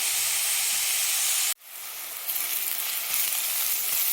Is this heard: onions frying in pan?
yes